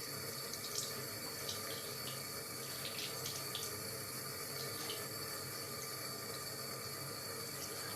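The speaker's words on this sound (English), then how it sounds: "You rinse them off underneath your fingernails" Tap water running steadily into a sink while hands are rinsed, a constant close hiss and splash with faint clicks and clatters, no talk.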